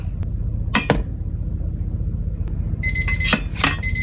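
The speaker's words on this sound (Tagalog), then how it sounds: "parang tumunog yung alarm natin" An electronic alarm beeps in two short bursts of high tones near the end, over a steady low background hum, after a couple of brief clinks.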